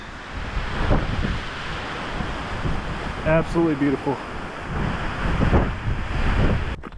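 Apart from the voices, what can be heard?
wind gusting on a mountain hike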